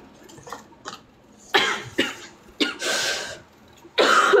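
A few loud, harsh coughs burst out close to the microphone, separated by short pauses after some faint sounds at the start.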